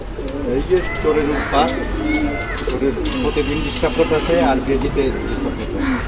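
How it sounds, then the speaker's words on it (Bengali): A loft of pet pigeons, including red ones, coos steadily in soft, repeated throaty rolls close by, while someone talks over them throughout. "লাল গররা কবুতর আছে এখানে।"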